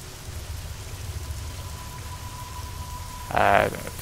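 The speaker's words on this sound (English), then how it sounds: "it's raining now." Steady rain from a weather mod in the video game Fallout: New Vegas, a soft continuous hiss at moderate level with a thin tone running underneath, then a brief louder burst near the end.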